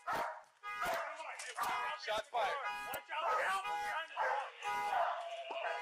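A police dog barks repeatedly in body cam footage, sharp loud yelps and barks coming in quick bursts with brief whimpering between them.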